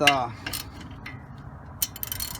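A wrench turns a front strut bolt on a 2006 Toyota Avalon XLS, giving close metallic ratcheting clicks and clanks in short bursts between quieter pauses.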